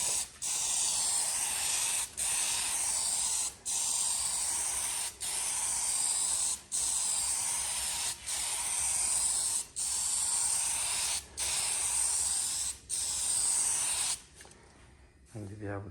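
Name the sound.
spray gun spraying paint on a car bonnet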